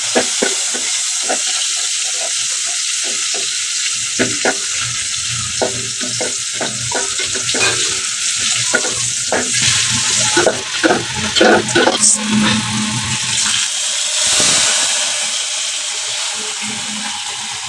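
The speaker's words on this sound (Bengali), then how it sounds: "এখন আমি এটাকে ফোড়ন দিব। তেল দিয়ে দিব, কাটা শুকনা মরিচ, আমি পেঁয়াজ রসুন একসাথে কুচাই নিছি।" Dried red chilli, chopped onion and garlic fry in hot oil for a potato dal tempering, giving a loud, dense sizzle with repeated stirring clatter that eases into a softer hiss near the end.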